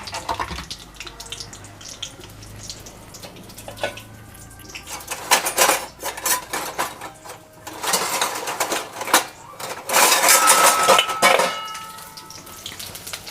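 Chopped onions and green chillies fry in hot oil in a home kitchen, giving a loud, hissing sizzle that swells in surges, with clinks of a utensil against the pan and no speech.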